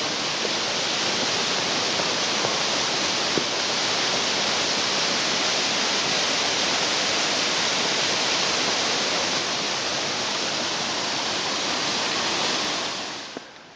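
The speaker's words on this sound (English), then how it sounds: "We're still on the trail next to the waterfall." Waterfall beside a steep hiking trail on Mount Washington, spilling into a pool, a loud, constant broadband rush that stays even from start to finish before cutting off, with no talking.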